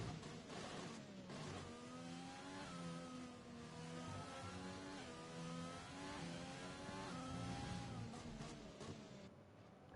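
A Formula 1 car in the F1 2020 video game drives a lap of the Russia circuit, its engine droning steadily with rising and falling pitch through gear changes, loud and continuous with no talk.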